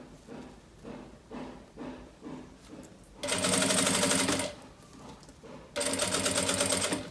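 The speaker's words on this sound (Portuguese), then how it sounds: "Vou costurar aqui." A sewing machine stitches bias binding onto plastic in two loud, steady runs of a few seconds each, separated by quieter handling and fabric shuffling.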